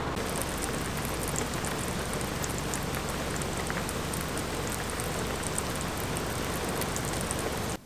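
Rain falls steadily outside a car window in Australia, a dense, even hiss of drops that holds at the same loudness throughout with no other sounds.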